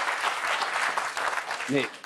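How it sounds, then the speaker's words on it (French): Studio audience applause at a French political television programme, a steady round of clapping with a brief voice breaking in near the end. "Alors, les applaudissements, on n'est pas dans une arène"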